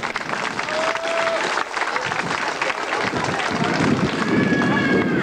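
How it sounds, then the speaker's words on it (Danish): Circus audience applauding a steel globe act performed by a woman, a dense, steady wash of clapping filling the whole stretch, loud and close, with a brief whistle-like tone drifting over it. "Lad os give et ordentligt bifald."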